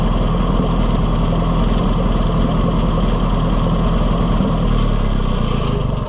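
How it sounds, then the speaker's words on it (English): A gas Oliver 550 tractor engine idles without the choke, a loud, steady low rumble with a slightly uneven knock running throughout, no voices. "It's not perfect, but it's running without the choke, which it wouldn't do that before."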